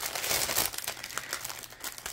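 Crinkling of plastic packaging as a Diamond Dotz kit is opened, continuous close rustling and crackling that is fairly loud, with no voices.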